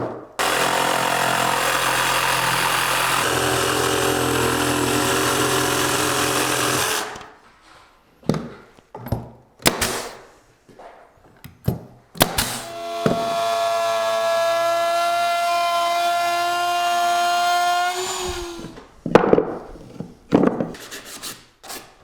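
A power router cuts a wooden stair trim bracket, a loud broadband whine for about seven seconds, then bursts of short cuts, a longer tonal run under load with rising pitch, and a few closing bumps, with no talk.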